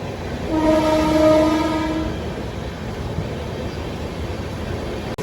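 Janshatabdi Express train running with a passing train alongside, a loud steady rumble and rush under a long horn blast that sounds for about two seconds near the start, then fades to continuous running noise.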